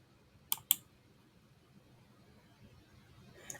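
A computer mouse clicks twice in quick succession, sharp and close, followed by a fainter third click after a quiet pause.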